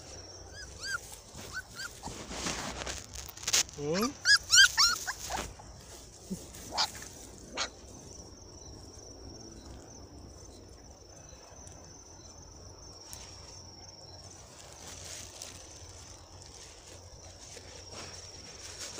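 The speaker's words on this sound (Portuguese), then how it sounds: "Tô ouvindo o latido dos cachorros." Dogs bark and whimper outdoors at a shelter visit, a burst of overlapping barks and yelps near the start that fades into scattered whines, with crickets chirping steadily in the background and a brief spoken interjection.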